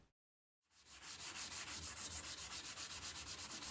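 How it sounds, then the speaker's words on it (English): A cloth rubs beeswax polish into the wooden interior of a mid-century modern bureau desk, making close, steady back-and-forth swishing strokes in a quick even rhythm that start after a brief silence. "I gave the whole interior a quick once over with the feed and wax beeswax polish"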